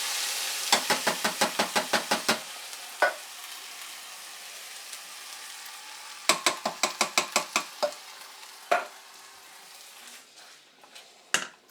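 Spaghetti bolognese sauce stirred in a pan over a soft sizzle, bursts of quick rhythmic scraping clicks separated by pauses, close-up with no talk.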